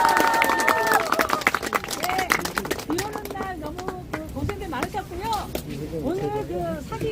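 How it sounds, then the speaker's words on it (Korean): Applause and clapping from a crowd at an outdoor election campaign launch press event on Dongbaek Island in Busan, with cheering and voices mixed through the steady, loud ovation. "박수 드립시다. 박수."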